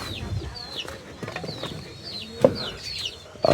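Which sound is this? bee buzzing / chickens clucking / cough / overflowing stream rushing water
chickens clucking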